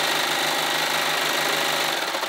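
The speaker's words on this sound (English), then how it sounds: "I'm going to match up those raw edges and sew." A sewing machine runs steadily, stitching a stretched neckband to the raw edges of a bodysuit bodice with a continuous, even motor hum and rapid needle chatter. It stays close and loud with no pauses.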